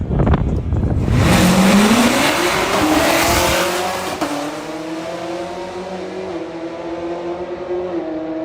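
Race cars launch and scream past at the TX2K street racing event in Dallas, with engines revving hard and tires squealing, loud up close before fading into a long steady drone as they pull away.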